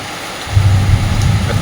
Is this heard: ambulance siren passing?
no